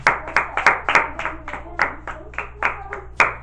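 A church congregation claps in sharp, distinct handclaps with an uneven rhythm, close by and fairly quiet, with no talking over it.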